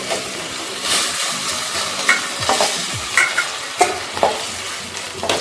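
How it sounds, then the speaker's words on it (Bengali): Prawns frying in hot oil in a kadai for a Bengali-style prawn curry, a steady close sizzle with scattered crackles and soft scrapes of a utensil as the pieces are lifted out, no talking. "চিংড়ি মাছটা ভাজা হয়ে গেছে, এবার আমি চিংড়ি মাছগুলো আস্তে আস্তে তুলে নিচ্ছি।"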